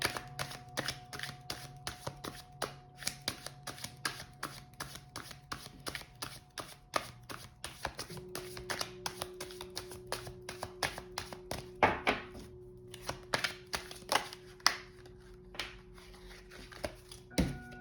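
Quick, soft tapping and riffling of tarot cards being shuffled, irregular bursts of crisp clicks close by in an otherwise quiet room.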